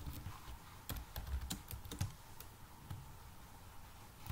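Computer keyboard typing while writing C code: a quick irregular series of sharp clicking keystrokes, close and fairly quiet, with no talking.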